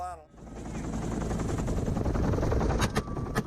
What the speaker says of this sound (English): A burst of gunfire rained down from the helicopter